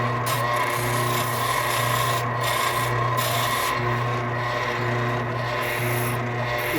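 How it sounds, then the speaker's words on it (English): A hand file rasps a small chamfer onto the end of a wooden marking gauge, giving continuous close scraping strokes with a steady rhythm and brief pauses, no talking. "Just putting a little bit of a chamfer, I guess you'd call it"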